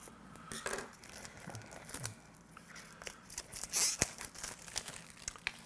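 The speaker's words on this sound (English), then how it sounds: "So there is lots of cellophane on here." Cellophane is peeled and crinkled off a new DJI Osmo Action camera box in a series of close, quiet crackles and short tearing rustles, with no talking.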